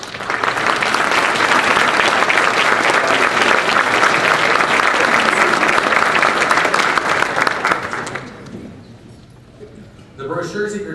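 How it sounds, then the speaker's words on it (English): Loud, dense applause from a luncheon audience at the Akron Roundtable honoring high school students and their sponsors, sustained for about eight seconds before fading, then a voice begins speaking. "for us to give them and their sponsors a round of applause"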